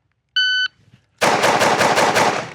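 A sharp electronic beep is followed by a rapid burst of about six loud, close pistol shots from an Ermo X, a 2011-style hammer-fired pistol taking Glock magazines, fired at an outdoor range.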